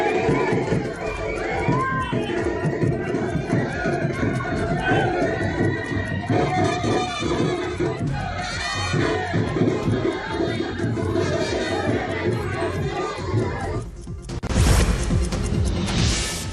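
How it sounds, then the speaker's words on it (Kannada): Crowd of young devotees at a Shivaratri palanquin procession during a temple fair at the Siddharoodha Math, North Karnataka: dense, loud, continuous crowd noise with shouts and cheering, surging into a louder burst near the end. "ಪಲ್ಲಕ್ಕಿ ಮೆರವಣಿಗೆಯಲ್ಲಿ ಭಕ್ತಿ ಸಂಭ್ರಮದಿಂದ ಪಾಲ್ಗೊಳ್ಳುವ ಯುವಕರ ಹರ್ಷೋದ್ಗಾರ ಮುಗಿಲು ಮುಟ್ಟಿತು"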